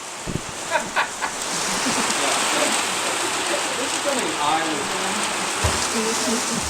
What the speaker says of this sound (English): It's not raining, it's hail.